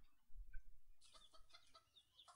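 Chickens in the game RuneScape cluck and squawk in a few quick bursts, fairly faint, following a low thud.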